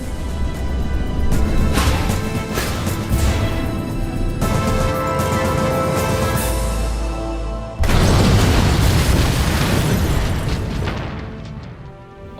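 Rockets explode in the video game Kerbal Space Program with loud, sustained booming blasts and crackling rumble. A sharp new burst hits partway through, and the noise then fades out, with no voices.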